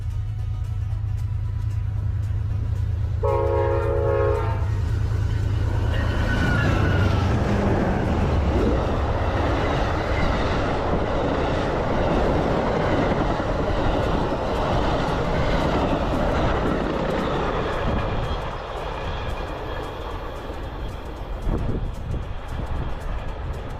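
An Amtrak passenger train passes at speed through South Florida, a loud sustained rumble and rush with a brief steady horn blast early on, staying close and continuous before easing slightly near the end.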